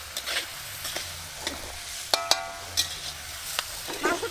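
Meat being stir-fried with chopped onion in a pan, with soft, steady sizzling broken by several sharp spatula scrapes and clacks against the pan, heard close and without any talk.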